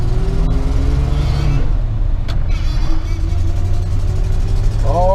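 A 1988 Chevy Custom Deluxe truck's engine rumbles low and steady nearby as it drops off high idle, with a voice speaking over the running motor.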